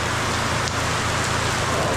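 Heavy rain pours down loudly and steadily, a dense unbroken hiss of drops on surfaces, close and continuous with no pauses.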